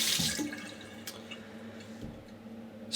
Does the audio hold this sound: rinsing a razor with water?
yes